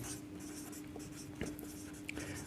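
A pen scratches on paper in short strokes, quiet and close, over a low steady hum, during a handwritten maths solution.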